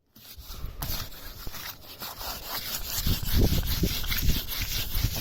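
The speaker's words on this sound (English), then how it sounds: "I'm just using light sandpaper, 1200 grit paper, so it's just a very light sanding." Light wet sanding with fine 1200-grit sandpaper on the chipped, rusty painted steel roof of a narrowboat, a steady close-up rubbing scrape that grows slightly louder and coarser toward the end, with no talking.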